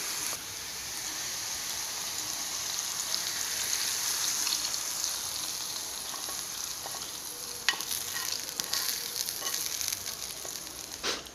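An onion tempering with chili powder sizzles and crackles as it is poured into Kerala-style mango pulissery, a moderate steady hiss with a few sharp clinks, no talking.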